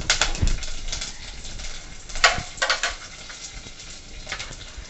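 Garlic sizzles in a spoonful of hot oil in a pressure cooker for spicy mutton. A close, crackling fry is broken by a few sharp spattering bursts.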